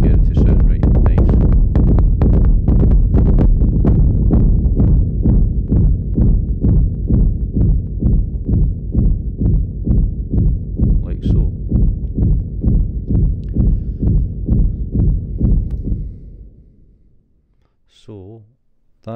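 A tech-style synth bassline pulses in quick, even repeated notes, deep and loud, with a shortened envelope. It fades out near the end, then a voice briefly speaks.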